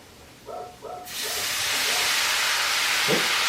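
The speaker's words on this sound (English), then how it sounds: "the pancetta I'm going to add maybe a quarter cup of white wine into that pan" White wine poured into a hot pan of rendered pancetta fat bursts into a loud, steady hiss of sizzling steam after a few soft clinks.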